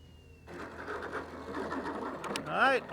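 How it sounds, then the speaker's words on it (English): A Hobbywing Platinum 41 series electric motor on a fixed-wing model plane runs with a whirring mechanical hum that builds, with a brief rising and falling whine near the end. "The motor behaves really nice."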